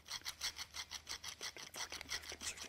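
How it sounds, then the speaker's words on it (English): A carbide router bit stroked back and forth on a diamond hone, giving a quiet, even rasping in a steady run of a dozen or so short strokes, close and alone. "So we can hone our router bits."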